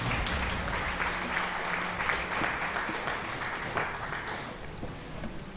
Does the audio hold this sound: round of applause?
yes